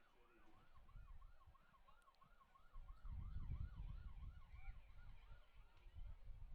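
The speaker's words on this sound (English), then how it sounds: "There's a siren off to my right." A wailing emergency siren rises and falls steadily off to one side at a high school varsity football game, distant and moderately faint over low crowd and field rumble.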